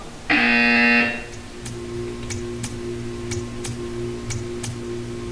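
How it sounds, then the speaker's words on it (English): A loud harmonic buzzer in the video game Portal 2 sounds once for under a second, followed by a steady low hum and a series of faint clicks ticking at uneven intervals. "You will hear a buzzer."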